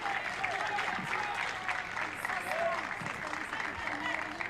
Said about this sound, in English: you can hear the applause from the home supporters